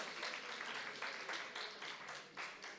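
A church congregation applauds during a Spanish-language worship service, a steady wash of many hands clapping at moderate distance that holds evenly throughout with no voices above it.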